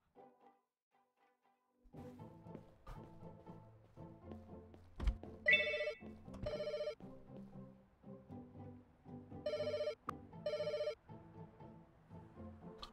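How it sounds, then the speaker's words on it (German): An in-game telephone in Pets Hotel rings in short repeated electronic bursts, paired trills spaced several seconds apart, mixed with softer game chimes and tones at a low, quiet level. "Geht bestimmt wieder das Telefon als erstes."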